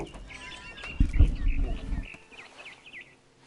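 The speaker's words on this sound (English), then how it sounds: "Then I heard chirping outside my window. It was a barn swallow going back to her nest." Barn swallow chirping outside a window in a video game, light high twittering calls repeating through the clip, partly under a brief burst of low rumbling noise.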